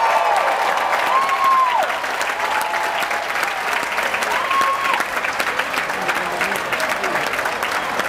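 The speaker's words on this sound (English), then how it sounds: "Give her a round of applause." A live audience at a jazz cruise comedy opening act claps continuously, dense and fairly loud applause filling the whole stretch, with faint voices beneath it.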